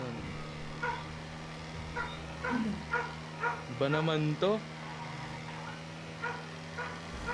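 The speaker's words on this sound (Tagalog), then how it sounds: "Nakikinig nga rin ako doon sa aso. Kumakanta yung aso eh." A dog barks and howls in the background, with short yips and a rising, wavering howl near the middle, faint beneath someone talking.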